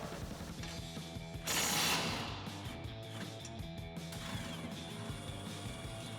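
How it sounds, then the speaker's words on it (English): A ratchet wrench and socket working the lower shock mounting bolt on a Ford F-150, steady close mechanical clicking and metallic rattling with one brief louder clunk, no talking. "we'll grab our 18 millimeter wrench and a 15 mil socket and pop that off"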